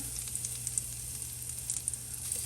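Minced garlic hits butter and olive oil for garlicky green beans, producing a bright, continuous sizzle with small pops scattered through, close and steady with no speech.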